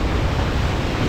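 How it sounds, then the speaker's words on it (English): Waves and swells on the open water near the mouth of the Chesapeake Bay roar as a loud, dense wash mixed with wind, steady and without voices. "Huge expanse, the waves, the swells."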